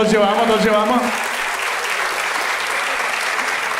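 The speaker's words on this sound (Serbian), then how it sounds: "Dajte veliki aplauz za Rusina" Loud, sustained audience applause at a live stage show, the clapping fading slightly over a few seconds while a voice speaks over it at the start.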